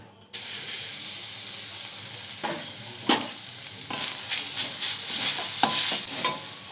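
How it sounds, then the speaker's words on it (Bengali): Grated coconut being stirred in a wok as it fries for taal (palm) pitha, a steady soft sizzle broken by sharp scraping strokes of the spatula, close and alone. "কড়াইতে দিয়ে দেবো নারকেল চূড়া"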